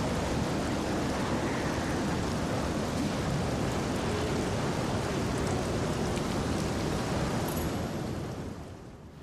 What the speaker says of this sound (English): What a terrible storm.